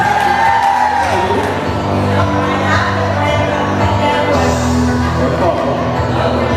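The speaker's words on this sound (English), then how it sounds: "Give a nice round of applause, everybody." A crowd at a Q&A event in Hiram erupts in dense, steady cheering and whoops that fill the whole stretch, with scattered shouts rising over the noise.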